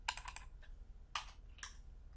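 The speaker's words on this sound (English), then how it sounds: "holding shift, double click, hit escape" Computer keyboard keys tapped during Photoshop work, shift held and escape hit: a quick cluster of crisp clicks, a pause, then two more sharp presses, close and fairly quiet with no talk.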